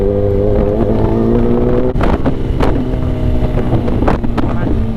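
Kawasaki Venom motorcycle ridden at a moderate pace along a scenic road, its steady engine drone loud and close with wind buffeting throughout and no talk.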